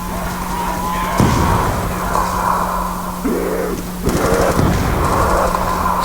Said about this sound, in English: I was kind of with the Galil here. Just aiming down sight and firing a few bullets